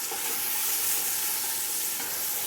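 Vegetables for ratatouille sear in a hot pan, giving a steady, loud broadband sizzle that holds evenly throughout with no talk.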